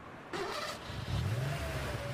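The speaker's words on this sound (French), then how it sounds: "Mets le moteur en marche pour voir" A repaired car engine turns over and catches, settling into a steady rumbling run with a low throbbing note, close and fairly loud, with no talk over it.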